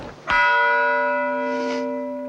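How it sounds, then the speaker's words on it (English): One loud church bell toll rings out at a memorial for students and teachers who were killed, a single strike with a long sustained ring that slowly fades, alone and without talk. "For each student and teacher killed came a single toll of the bell, one every 32 seconds"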